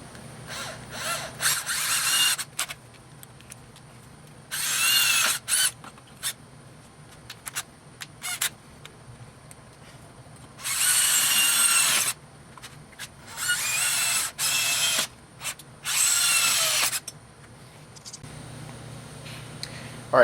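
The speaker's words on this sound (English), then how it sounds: "So we're going to just go ahead and drill through this one hole here" A power drill boring through a clamped metal hole punch part, cutting in short bursts of one to two seconds with quiet pauses between them, fairly close.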